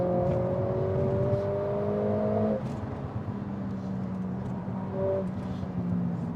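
A car loaded with five people and luggage accelerates, its engine drone rising steadily in pitch, then easing and rising again, heard from inside the cabin without talk.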